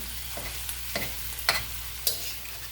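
Chinese food sizzles in a hot pan with a steady frying hiss, broken by a few scraping stirs at regular intervals, close and moderately loud.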